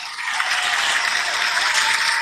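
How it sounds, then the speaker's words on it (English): A crowd applauds the winners of a live giveaway draw, a dense, even wash of clapping that holds steady throughout with no voices over it. "Appreciate this applause right there"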